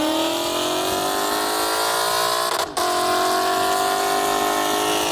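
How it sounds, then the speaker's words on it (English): Lexus RC F with its V8 engine, a steady loud engine drone rising in pitch as it revs, with a brief dip near the middle before climbing again. "Plus it has a V8."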